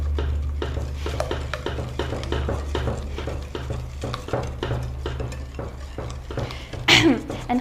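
A spoon working through cake batter of sugar, flour, vanilla, oil and eggs in a bowl, with soft repeated scraping and clinking strokes over a steady low hum, ending in a louder clatter.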